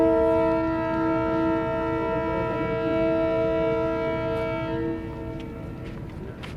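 Train running on a railway near Jacob Abad in Sindh, a loud sustained horn-like tone over the rumble of the wheels, fading slightly toward the end.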